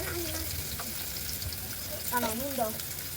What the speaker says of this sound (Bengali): এবার তেল দাও, দিচ্ছি তেল, সর্ষের তেল।